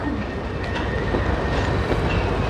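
Union Pacific freight cars roll steadily through the North Platte yard in Nebraska, a loud, continuous broadband rumble of wheels on rail with faint clicking and no voices.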